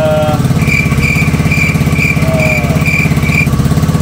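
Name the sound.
Yamaha Mio Soul i 115 scooter engine running after ECU replacement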